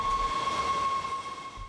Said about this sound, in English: a northbound train entered the station.